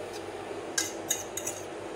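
Spices being stirred into chicken pieces in a bowl for shawarma marinade, with a few faint clinks of a utensil against the bowl over a quiet background.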